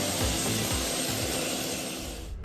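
A Black Hawk helicopter lands during a mine rescue drill in Austria, a loud, close, steady roar of rotor and turbine noise with a rhythmic low thumping underneath, no voices.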